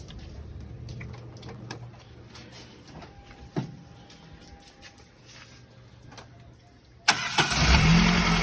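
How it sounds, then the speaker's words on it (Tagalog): Car engine cranking over a steady low background hum, then catching and starting, settling into a loud, close idle at the end, no talking. "Start the fucking engine."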